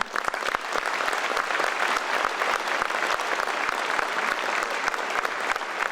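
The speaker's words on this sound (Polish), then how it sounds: "Naprawdę, duże brawa do Natalii" Sustained audience applause after a singer's performance at a birthday concert for the city of Kędzierzyn-Koźle, dense steady clapping from a large crowd filling the whole stretch without letup.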